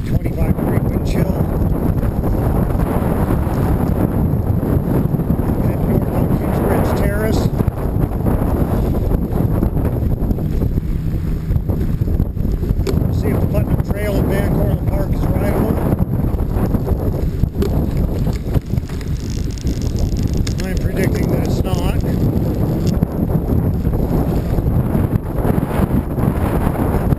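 Strong wind in near-freezing sleet and drizzle, roaring hard against the microphone in a loud, constant rush with gusty surges for the whole stretch and no letup.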